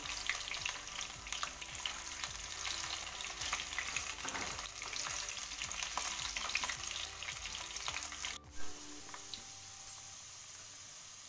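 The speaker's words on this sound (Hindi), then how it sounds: "आलू को हम अच्छी तरह फ्राई कर लेंगे" Potatoes fry in a pan with a continuous crackling sizzle and light stirring. Near the end the hiss cuts out abruptly and is followed by a couple of soft knocks.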